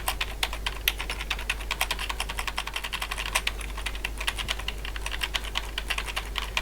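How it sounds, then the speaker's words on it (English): Keys pressed on the keyboard of a homemade Z80 computer, a steady run of close, crisp clicks over a constant low hum, with no talking. "So press a few more keys."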